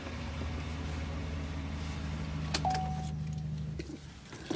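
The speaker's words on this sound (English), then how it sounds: "I'm going to go ahead and shut the truck off" A 2015 GMC Sierra 1500 SLE crew cab truck idles with a steady low engine hum, a brief tone sounds, and then the engine shuts off, leaving the hum gone near the end amid faint rustling.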